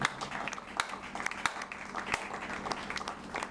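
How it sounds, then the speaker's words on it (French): A church congregation at an evening service gives fairly faint, scattered applause, with individual sharp claps standing out over a softer rustle of clapping. "Applaudissez pour vous-même."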